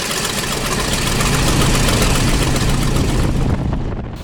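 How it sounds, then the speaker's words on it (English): A 300-horsepower nine-cylinder radial engine on a small flying-club aircraft near Pattaya drones loudly and steadily from start to end, heard close up with a throbbing low rumble and no talking. "It's got a big 300 horsepower radial engine, 9-cylinder"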